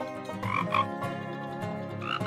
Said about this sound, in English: the little frog hopped in the water too